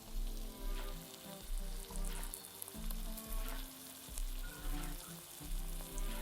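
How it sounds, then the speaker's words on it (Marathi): Spiced masala for pavta bhaji sizzles steadily in a pan, a close, dense frying crackle that swells and eases in repeated waves with low stirring rumbles beneath, no voices. "मसाला थोडासा शिजून द्यायचा."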